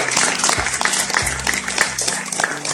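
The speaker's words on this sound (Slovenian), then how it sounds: "Mislim, da se zaslužijo en velik aplavz." Audience at a demography round-table event applauding, with dense, steady clapping throughout and a faint voice mixed in underneath.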